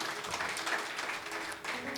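Applause from a church congregation during an Indonesian sermon, a dense, steady patter of many hands at moderate distance, fairly soft, with faint voices mixed in.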